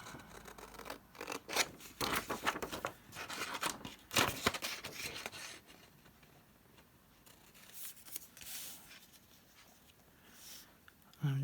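Scissors snipping out small paper borders for a craft page, a run of crisp rasping cuts in the first half, then quieter handling and a brief closing burst.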